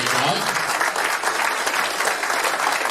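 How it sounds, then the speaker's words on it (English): Applause from an audience at a municipal election candidates' event, thick continuous clapping that stays loud and even for the full stretch, with no talk rising above it. "If we can give one last round of applause for all of them."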